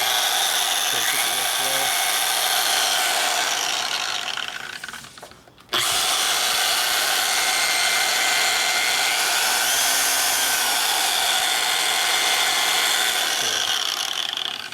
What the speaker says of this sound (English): Now this is a variable speed grinder.